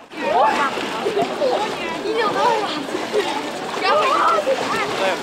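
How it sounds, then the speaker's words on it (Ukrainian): Churning water splashes as people plunge into icy river water through an ice hole at a Epiphany water blessing, with overlapping voices and excited shouts throughout. "Після молебню та освячення води сміливі віряни одразу пірнають у крижану воду."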